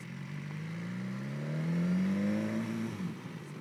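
A BMW S1000XR motorcycle pulls in to park in front of a parked car, its engine note rising and swelling briefly before easing off, fairly quiet and close.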